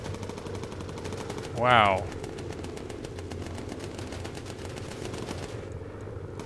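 An enemy ace plane in a video game fires incendiary machine-gun bullets in a long, rapid, evenly spaced burst that runs through the whole stretch. A voice briefly exclaims over it early on.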